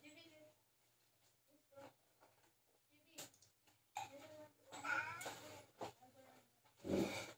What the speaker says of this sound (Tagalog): pusa ako nangangalabit, nagugutom na daw siya